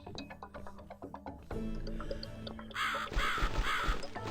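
Crows caw in The Cat Lady video game, several harsh calls rising over the game's music and ambience, loud toward the end of the moment.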